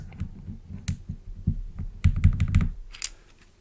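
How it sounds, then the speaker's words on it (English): Keys on a computer keyboard clack and tap up close in a quiet room, coming in irregular clusters of clicks with a denser flurry near the end before it settles. "that would be the semicolon and the colon"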